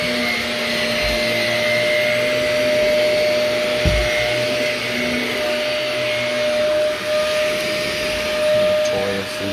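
A carpet cleaning vacuum running steadily and loudly with a constant whining drone, a couple of brief knocks partway through, no speech over it.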